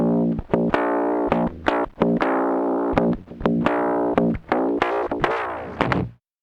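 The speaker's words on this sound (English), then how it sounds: "Dalek ring modulator sounds." Harsh, metallic, robotic Dalek-like ring modulator guitar notes from an Amiga 500 used as a guitar pedal, in choppy bursts, each sharply attacked and clanging with inharmonic overtones, ending abruptly.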